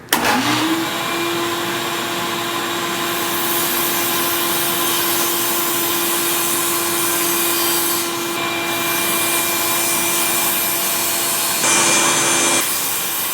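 A table saw cuts wood pieces for a landscape sign, with a loud steady whine and a continuous rough cutting rasp that swells in a few places, close up and with no speech.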